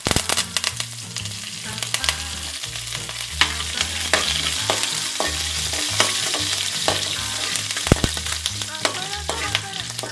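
Cumin, dried chillies and curry leaves sizzle and crackle steadily in hot oil as a tempering for prawn fried rice, with stirring clinks and scrapes throughout; no voices.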